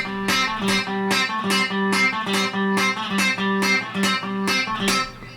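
Country guitar lick with chromatic passing notes played up to speed on electric guitar, a steady run of quick plucked notes in an even rhythm, close and clear with no voices.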